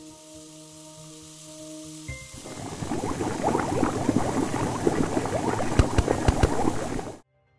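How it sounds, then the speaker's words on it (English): Heated hydrogen peroxide in a virtual reality science lab starts fizzing after a low hum, a dense, loud bubbling boil that runs for several seconds and then cuts off abruptly. "Hydrogen peroxide, when heated, decomposes, releasing oxygen and water."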